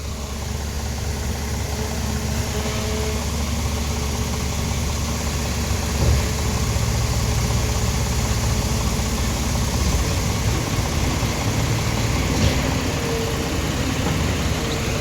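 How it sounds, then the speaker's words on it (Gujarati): A tractor engine runs steadily throughout, a continuous close rumbling drone with an even vibration and no pauses, on a farm after overnight rain. "અને આજે ખાલી ટ્રેક્ટરો ચાલે છે."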